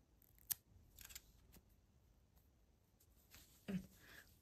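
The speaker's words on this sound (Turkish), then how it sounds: "ipimi kesiyorum." Scissors snip yarn while crocheting a hexagon cardigan, giving a few faint, sharp cuts at close range in an otherwise quiet room.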